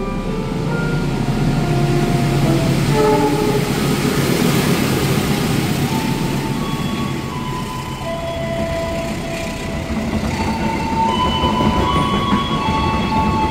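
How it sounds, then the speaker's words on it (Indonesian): A train passes close by at a station in Indonesia, a loud steady roar of wheels on rails with scattered metallic squeals and tones, continuous for the whole stretch. "Ini ada papasan kereta nih"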